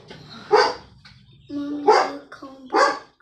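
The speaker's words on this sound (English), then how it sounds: "If it's not goats honking, it's dogs barking." Several dogs bark in three loud bursts near a farm where goats are also kept, with quieter yips and background murmur between the barks.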